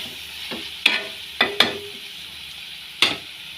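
Onion pieces frying in a pan for mutton gravy curry, a low steady sizzle punctuated by a few sharp metallic scrapes and clinks of a spoon against the pan, close and unaccompanied by speech.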